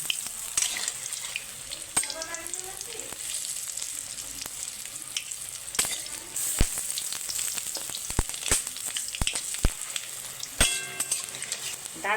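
Lentil fritters (bora) deep-frying in hot oil bubble and sizzle continuously, broken up by clinks and scrapes of a utensil moving them around the pan.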